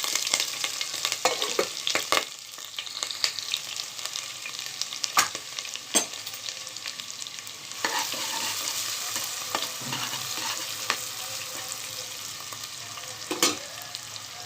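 Onions and whole garam masala fry in a pan with a steady sizzle, broken by occasional stirring scrapes and clinks.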